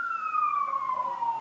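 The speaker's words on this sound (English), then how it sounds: "There's a lot of ambulances going on around this neighborhood." An ambulance siren in a residential neighborhood, one steady wailing tone slowly falling in pitch, moderately loud and clear with nothing else over it.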